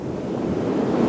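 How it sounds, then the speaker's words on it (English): Ocean surf and gusting wind on a beach at a wedding, a continuous broad wash of breaking waves with wind buffeting the microphone, steady and fairly loud, no voices. "Let the wind and the waves just be a part of it."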